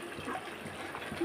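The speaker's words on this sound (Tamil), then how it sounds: "வேக வச்சுருந்த பருப்பு தண்ணியை இதை ஊற்றிட வேண்டியது தான்" Cooked lentil water poured into a pot of bottle gourd kootu, a soft, steady trickle and splash of liquid that stays fairly quiet throughout.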